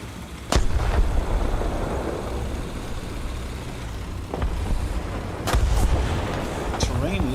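Heavy artillery fire in the War Thunder video game, with several sharp booming blasts spaced over a steady engine and vehicle rumble, loud and close.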